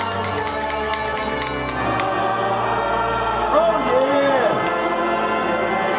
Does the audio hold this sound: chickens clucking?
no